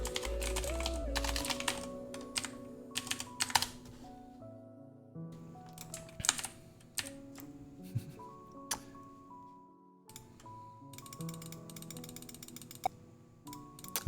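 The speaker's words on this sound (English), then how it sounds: "why am I typing this out?" Typing on a computer keyboard while writing a Windows build workflow, heard as bursts of close, clicky keystrokes with short pauses between runs, fairly loud and with no one speaking.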